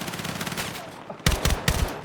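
Gunfire erupts in the video game Battlefield 6, starting as a dense rattling background and then breaking into a few loud, close, heavy bursts of shots in quick succession.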